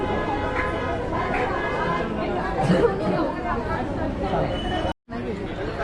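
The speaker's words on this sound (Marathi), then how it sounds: "आतमध्ये गर्दी बघू शकता काय तुम्ही खूप जास्त गर्दी" A packed temple in Pune is full of dense crowd chatter, with many overlapping voices close by and a constant murmur. The noise briefly cuts out near the end, then resumes.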